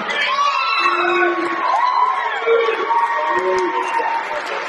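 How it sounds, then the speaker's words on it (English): An audience at an amateur bodybuilding show for novice, teen and masters men cheers the heavyweight division champion, a crowd roar of whoops and yells with whistles over it, steady and close. "Let's make some noise. Give him a clap."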